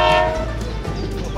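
Cartoon toy train pulling away to deliver goods, a steady loud horn-like tone with rumbling wheels running continuously throughout, no voices.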